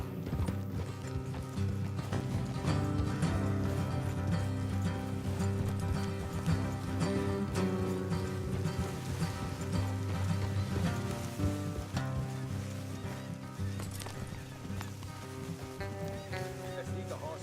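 Horse hooves clip-clopping at a steady ride in Red Dead Redemption 2, rhythmic hoofbeats under a continuous music score with faint creaks of tack, held at even level throughout.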